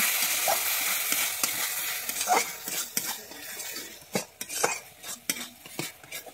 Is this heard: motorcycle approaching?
no